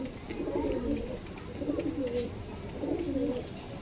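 Soft, repeated pigeon coos rolling in low rhythmic phrases, close by, over a faint background hum.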